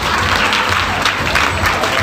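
Dense, steady applause from a crowd at a girls' college farewell ceremony, close and loud throughout with no break.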